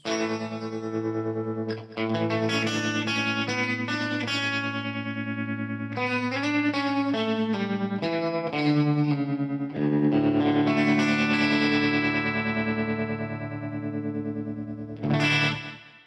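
Electric guitar chords pulsing with a wavering, shimmering RevivalTREM bias tremolo effect, sustained and moderately loud, played alone with no voices.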